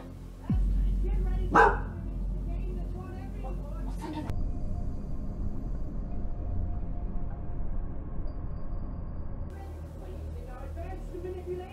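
A dog, woken from sleep in the middle of the night, gives a couple of sharp barks early on against a low, steady rumble of indoor background noise.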